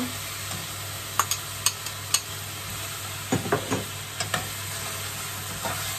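Red pepper frying over turned-down heat with dry mince, a continuous sizzle broken by scattered clicks and a short run of stirring scrapes midway, no voices.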